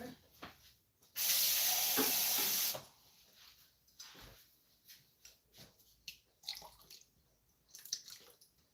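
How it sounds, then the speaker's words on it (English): Water splashes and pours forcefully for about a second and a half, then gives way to quieter drips, clinks and small kitchen handling sounds. "Just going to add a little bit more water."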